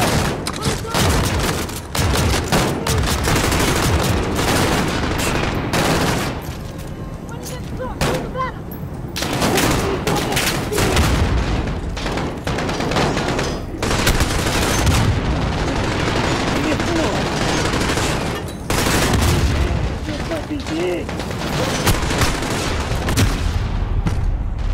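Dense, near-constant gunfire and explosions in Call of Duty: Modern Warfare's campaign, with loud rapid automatic bursts, heavy booms and rumbling blasts overlapping almost continuously, broken by only short brief lulls.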